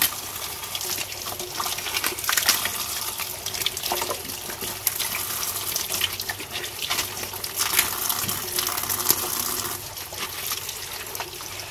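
Vegetables for a rujak sayur salad are rinsed under running tap water, a steady splashing trickle into the sink that continues throughout, close and fairly quiet.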